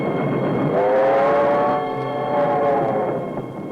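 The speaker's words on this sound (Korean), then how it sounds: "이윽고 기차는 떠납니다" An old Korean War refugee train pulls away, a steady rumble of the moving cars under a long wavering whistle-like tone that swells and fades; no voices.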